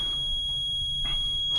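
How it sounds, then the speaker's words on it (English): A steady, high-pitched electronic beep tone from a multimeter's continuity test on a Samsung electric dryer's heating element holds without a break, with short bursts of faint noise near the end. "if it beeps because you have a multimeter with tone"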